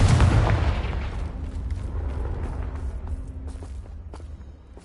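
A Confringo blasting spell bursts in Hogwarts Legacy with a loud, deep boom up front that rolls off into a long rumbling decay, scattered light clatter trailing behind.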